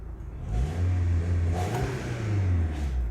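A chipped Volkswagen car engine revs up and settles in a steady, close, loud drone, rising again briefly midway with no talking.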